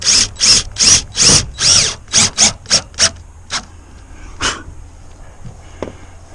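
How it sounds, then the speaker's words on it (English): A power drill with a magnetic quarter-inch bit drives screws into a metal roof panel in a run of short, loud bursts of whirring, followed by a few sparser, fainter ones. "I'm using a magnetic 1/4 inch bit here. Definitely helps hold the screws."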